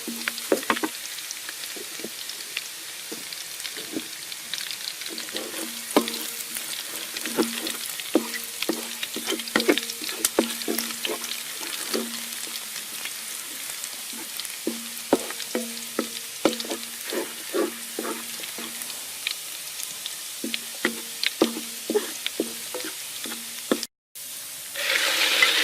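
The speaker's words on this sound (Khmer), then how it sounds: "នេះយើងឆាពី3ត្រឡប់" Pork stir-frying in hot oil in a pan: steady crackling sizzle with repeated scraping and stirring clatter throughout, close and continuous, with a brief cut near the end.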